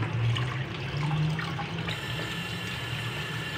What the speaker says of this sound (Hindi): टोकरी में थोड़ा सा गुड़ धोवा अच्छी तरह धुल जाए